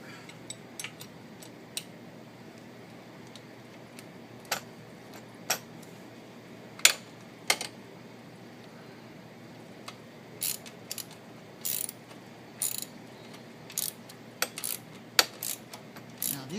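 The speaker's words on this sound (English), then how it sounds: "Now our 16 mil. 14 mil socket." Metallic clicks and clinks of a ratchet with a 14 mm socket working on bolts of a BMW F650GS Dakar motorcycle, coming as scattered, irregular taps over a low background hiss.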